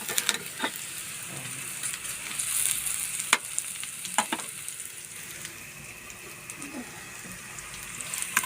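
Galunggong fish sizzles as it fries in a pan, a steady crackling hiss with sharp pops and clicks scattered through it, close and moderately loud, with no voices.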